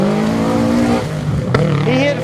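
A super production rally car brakes hard on a rocky gravel stage, its engine note dropping in pitch as it slows, followed by a sharp knock and a revving engine, loud and close with a voice talking over it.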